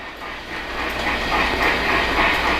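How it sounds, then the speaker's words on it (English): A model freight train rumbles along the layout track as it emerges from a tunnel, a steady rolling whir with light clicking that grows slightly louder and closer over the span. "you can see the freight train coming out"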